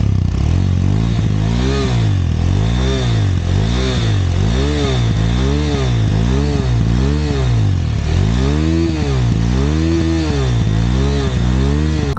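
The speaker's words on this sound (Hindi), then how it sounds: "ऑब्वियसली मैं एग्जॉस्ट नोट आपको सुनाने वाला हूँ।" A KTM 390 Adventure motorcycle's BS6-compliant single engine revs repeatedly through its stock exhaust, rising and falling in pitch in a steady rhythm, loud and close throughout.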